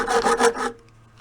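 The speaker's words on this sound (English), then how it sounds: "It's a hacksaw. You know, it's just a small handle. It's kind of a handy tool." A small-handled hacksaw rasps around the shell of a Camco snare drum, four or five quick back-and-forth strokes that scrape close and loud before stopping, followed by faint light taps.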